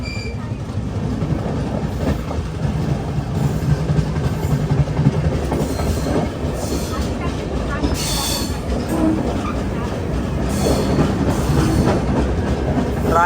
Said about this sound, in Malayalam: റായഗഡ റെയിൽവേ സ്റ്റേഷനിലേക്ക് ഇതാ നമ്മുടെ ട്രെയിൻ എത്തിക്കൊണ്ടിരിക്കുകയാണ്.